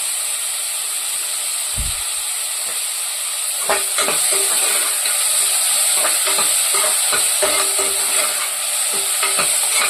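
Chopped tomatoes sautéing in an oil pan for a bottle gourd kootu, a constant bright sizzle with a thump early on, then repeated scraping stirs of the spatula against the pan, close and without voices.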